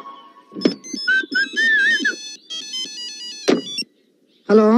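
Telephone ringing in a domestic film scene, a bright electronic tone sounding in bursts between knocks, with a brief gap before a final burst.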